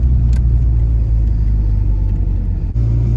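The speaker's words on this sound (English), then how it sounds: "Bro, we driving it again with the wastegate fixed. It doesn't sound that loud no more." Turbocharged Honda Prelude engine with a repaired wastegate, running as a steady, loud low rumble from inside the car, with a brief dip near the end and no talk.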